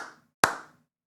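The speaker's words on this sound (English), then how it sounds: "clap your hands" A single sharp hand clap lands alone and close, with brief sung voice trailing off just before it in a children's-style clapping song.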